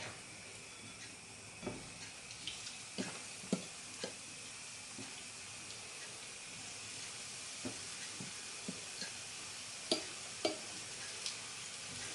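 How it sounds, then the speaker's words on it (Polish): Quiet, steady sizzling of plums in batter frying in hot fat, with scattered small pops and crackles. "I będziemy smażyć z jednej i z drugiej strony."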